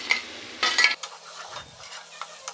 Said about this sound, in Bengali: এখন লোটা শুটকিটা ভুনা করব।